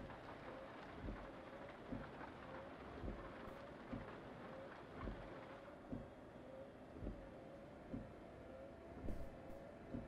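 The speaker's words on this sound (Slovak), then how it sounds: "A už sa ten dážď ukludňuje." Steady rain falling in Euro Truck Simulator 2. It is a quiet, even hiss with soft, regular thuds at a steady rhythm. A few faint bright ticks come near the end.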